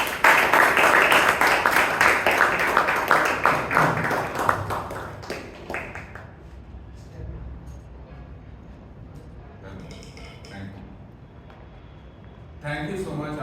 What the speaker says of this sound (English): let's welcome with a big round of applause DTM Rajdeep Manwani